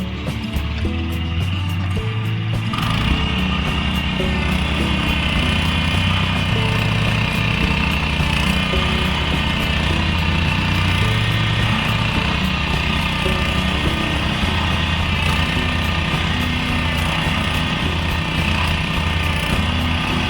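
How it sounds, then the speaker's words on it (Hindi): A small tractor engine ploughs a hillside field, running in a loud, steady, close drone with a rough mechanical rumble that holds unbroken after a brief change near the start. "तो अभी खेत में ट्रैक्टर लग चुका है"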